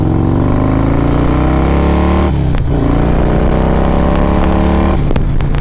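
A 2007 Harley-Davidson Road Glide fitted with a 113 Screaming Eagle engine revs loudly and close, its deep harmonic drone rising in pitch, dropping off near the midpoint, then climbing again and catching near the end.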